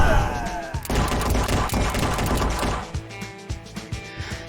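Rapid volleys of gunfire ring out in the video game Red Dead Redemption 2 played in VR, dense overlapping shots that thin into scattered single cracks toward the end.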